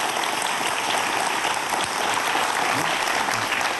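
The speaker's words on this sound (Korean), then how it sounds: "교수님께 오늘 큰 박수 부탁드립니다" An audience applauds a professor at the end of a physics lecture. The clapping is dense and sustained, with a crowded room of many hands, and it keeps a steady level from start to finish.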